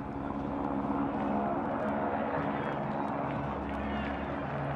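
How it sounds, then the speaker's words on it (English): A steady, droning helicopter buzz hangs in the background over a football stadium during a Barcelona vs Athletic Club match, mixed with faint crowd noise, constant and moderately distant. "So we hear the helicopter buzzing overhead."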